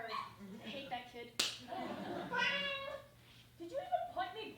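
A cat meows among people talking, with a sharp slap or smack partway through and speech running over most of it.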